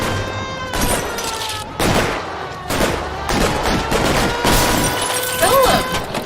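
Video game gunfire rattles in repeated loud bursts and volleys, with shattering crashes among the shots, continuing for several seconds up close.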